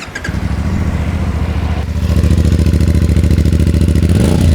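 A CFMOTO 450CLC Bobber's two-cylinder motorcycle engine runs loud and close, a steady pulsing throb that rises in pitch partway through.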